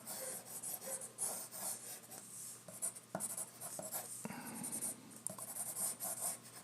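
Pencil sketching a soldier figure on paper, with steady rasping strokes and quick scratchy marks that start and stop in short bursts, close and fairly quiet, no talking.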